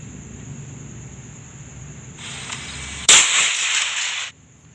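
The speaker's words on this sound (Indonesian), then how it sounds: "itu kayak suara tembakan itu notifikasi HP saya" A sharp, loud bang, a phone notification resembling a gunshot, suddenly cuts through a steady hiss, followed by a second of noisy burst before fading back to quiet ambience in a Yogyakarta hotel.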